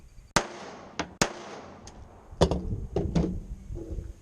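Gunshots fired at a practice range, sharp isolated cracks at irregular intervals, some close together, fairly loud against quiet background with faint rattles between.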